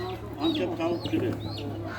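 A rooster at a poultry market gives a short strained crow with clucking fowl close by, over a continuous low hum and market background, with people talking nearby.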